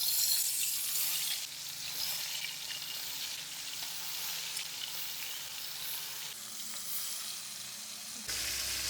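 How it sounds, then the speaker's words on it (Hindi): Marinated chicken fries in hot oil with a loud, continuous sizzle that drops slightly midway and rises again near the end, with no talking. "तीन से 4 मिनट हम फ्राई करेंगे ताकि अच्छा सा कलर आ जाए।"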